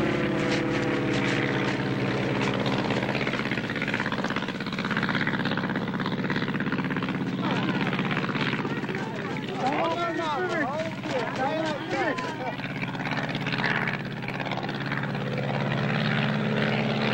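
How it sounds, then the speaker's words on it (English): An Arctic bush plane drones steadily through the whole span, its propeller engine loud and continuous with a rising and falling pitch in the middle as it flies and comes in to land, while a narrator talks over it. "Arctic bush pilots can land their planes in the most unlikely places."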